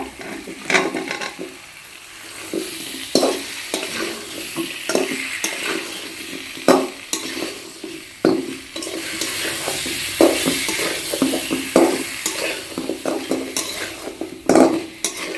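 Potatoes and tomatoes frying in a pan with a continuous sizzle, punctuated by repeated scrapes and clacks of a spoon stirring against the metal.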